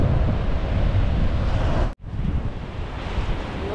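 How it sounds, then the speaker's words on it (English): Ocean waves crash and wash continuously onto a secluded, quiet beach, a loud steady roar with wind buffeting the microphone and a brief dropout midway. "Look at the waves."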